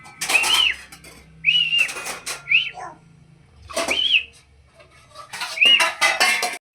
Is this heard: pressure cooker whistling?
yes